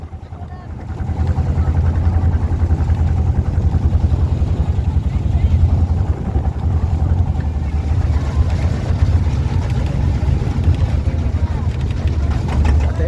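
The motor of a trawler boat on the Padma river drones low and steady, a continuous loud rumble that runs throughout with only slight variation, heard close by.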